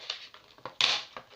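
Hard plastic packaging being cut and pried open with scissors, giving a string of close crinkling, snapping crackles in short bursts, the loudest near the end, with no talking.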